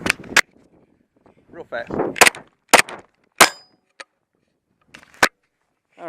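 Pistol shots from a Glock 29SF during point-shooting practice at a range, several sharp loud cracks spaced irregularly across a few seconds, with someone talking briefly between them.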